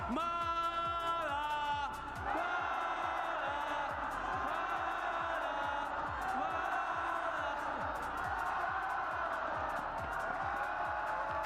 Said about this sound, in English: el aplauso gigante